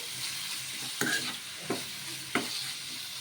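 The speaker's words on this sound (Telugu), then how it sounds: "ఆ చికెన్ అయితే వేసేసుకొని ఒకసారి బాగా కలిపేసుకుందాం ఇలా బాగా కలిపేసుకోవాలి" Minced chicken frying in a pan under a soft, steady sizzle, with three distinct scraping stirs of a spoon spaced about a second apart, close and fairly quiet.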